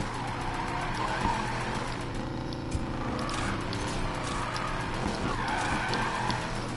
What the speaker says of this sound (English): That's that e-brake in use.